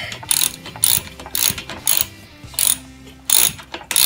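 A hand ratchet is cranked during assembly of a TaoTao DB14 110 dirt bike, loud close clicking bursts repeating in a steady rhythm with brief pauses between strokes.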